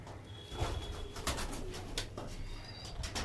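Pigeons in a loft cooing softly in short repeated calls, faint and close, with light clicks and rustles between the coos.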